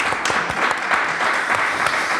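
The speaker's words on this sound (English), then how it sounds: "Round of applause for Mr. Ed Service." Audience applause after a talk about making music, dense continuous clapping from a crowd, loud and close, with no speech over it.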